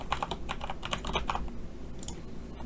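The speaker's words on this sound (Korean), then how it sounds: "타자 쳐서 넣어 주시고요" A computer keyboard is typed on in a quick run of soft, close keystrokes that slows and thins out toward the end, with no one speaking.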